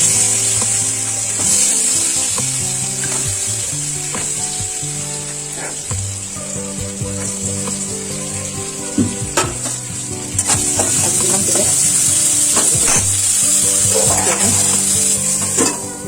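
Flat beans fry and sizzle in a home kitchen pan, a steady hiss broken by repeated clatter of a spatula stirring and scraping, close and fairly loud, with no talk.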